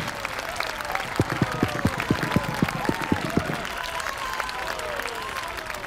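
An audience applauding as a singer walks on stage in La Jonquera, sustained loud crowd clapping with a steady rhythmic burst of hand claps and cheering voices throughout.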